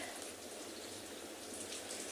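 Rain pattering down over a penguin beach, a constant soft hiss of countless drops hitting water and ground, uniform throughout with no one speaking.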